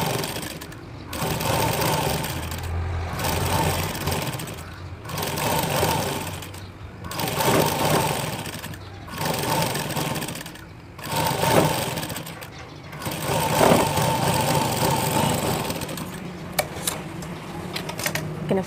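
Sewing machine top-stitching a blouse waist piece, running in repeated bursts of rapid, steady needle clatter separated by short pauses, close and fairly loud throughout.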